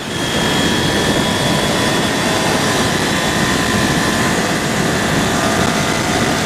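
A Kawasaki Ninja 400 motorcycle engine pulls hard under acceleration in a steady, loud, continuous roar mixed with heavy wind rush and no pauses.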